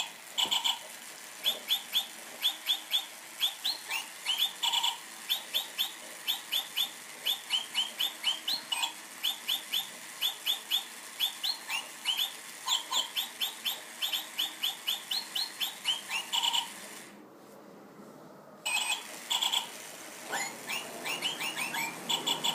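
A battery-powered Jingle Bird toy sings a steady run of electronic bird songs, bright repeated chirps and trills close by, with a brief pause near the end before the chirping resumes.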